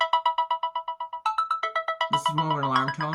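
A Samsung phone's Shimmer tone, closer to an alarm than a ringtone, plays as a run of quick, bright, evenly spaced chime pulses. Near the end a voice starts talking over the final notes.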